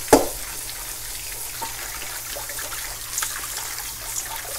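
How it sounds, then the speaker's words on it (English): Pumpkin seeds in a strainer are rinsed under running water, making a continuous close trickle with a sharp clatter at the start and a few soft knocks. "And we're just gonna rinse these."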